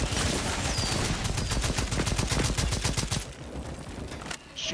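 Sustained automatic gunfire in the sci-fi shooter Second Extinction on Xbox Series X, a steady rapid stream of loud shots that cuts off abruptly, followed by a brief quieter stretch with a short burst near the end.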